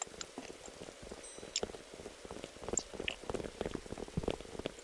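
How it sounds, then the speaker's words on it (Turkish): Steady patter of acid rain in a Roblox survival game, with scattered drips and splashes, soft and continuous, like drops falling on a hard surface. "Sokak kötü ama asit yağıyor asit."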